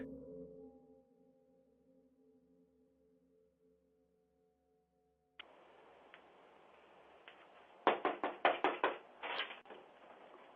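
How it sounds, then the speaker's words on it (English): Knocking on the door of an unoccupied house in the middle of the night, picked up by a doorbell camera: a quiet hum gives way to hiss, then a rapid cluster of sharp, loud raps near the microphone. "knocking on the door of an unoccupied house in the middle of the night"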